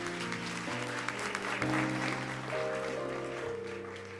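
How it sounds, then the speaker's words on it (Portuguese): A church congregation applauds Rachel during a worship service. Steady clapping carries on over sustained keyboard-like musical chords that shift every second or so. "Dá uma salva de palmas bem bonita aí para Rachel."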